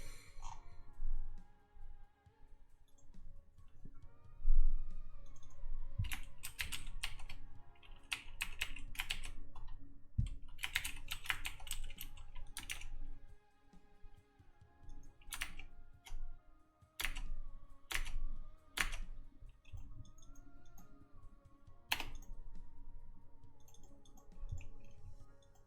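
Steady typing on a computer keyboard while working in process control software, with irregular bursts of sharp key clicks over a low background hum and no talking.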